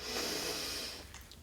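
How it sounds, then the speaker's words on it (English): A single deep breath drawn in slowly and audibly close to the microphone, a soft airy inhale that fades out in just over a second, with no speech. "I took a deep breath like this"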